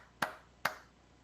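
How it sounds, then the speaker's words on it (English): Two sharp, separate hand claps about half a second apart, quiet and dry, in an otherwise calm room. "Now it's time to clap."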